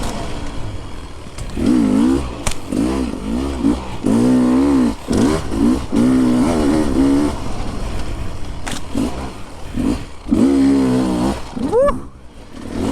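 An enduro motorcycle ridden off-road revs up and down in repeated bursts, the engine note rising and falling over rough terrain at close range and fairly loud, with brief gaps and a final fading whine.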